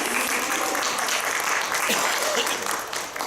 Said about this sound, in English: We give a round of applause for sharing.